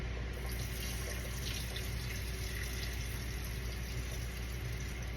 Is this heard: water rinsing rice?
yes